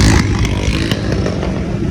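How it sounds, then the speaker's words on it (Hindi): Motorcycle riding along a rough road with its engine droning loudly and steadily, plus occasional clattering bumps throughout. "मैं बाइक के पीछे पीछे इनके जा रहा हूँ ना"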